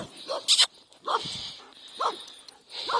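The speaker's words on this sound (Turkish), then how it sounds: "Dedemin köpeği yine bize geçit vermiyor." A dog barks in short separate bursts, about four spaced yaps over a faint steady background hiss, fairly close.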